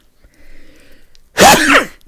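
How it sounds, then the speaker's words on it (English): A single sharp, loud sneeze bursts out near the end after a short stretch of faint background noise, with no talking around it. "And I sneeze right at the end."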